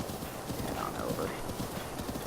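Steady clip-clop of a horse's hooves galloping across terrain in the Breath of the Wild video game, a continuous rapid rhythm with a brief whinny, mixed with game ambience and no talking.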